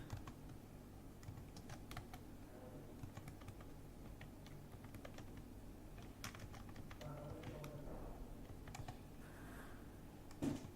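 Faint keystrokes come from a computer keyboard as card details are typed in, a soft irregular patter of clicks that continues quietly for about ten seconds under a low background hum.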